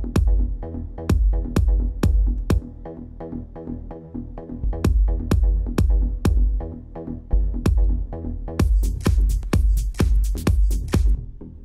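Deep mid range pluck bass synth made in Massive, playing punchy repeated low notes in a steady rhythmic pattern with bright accents toward the end; loud and alone, no talk.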